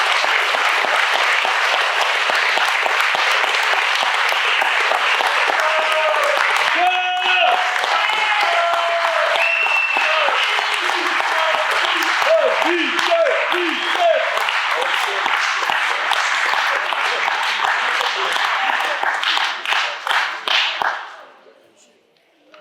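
An audience at a football club's centenary celebration applauds at length, a dense, loud clapping that stays steady for about twenty seconds before fading out. Brief cheers or voices rise within it.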